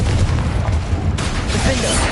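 Confringo explosion spell in Hogwarts Legacy, a loud close blast with deep booming bursts and crackling pops in quick succession during combat.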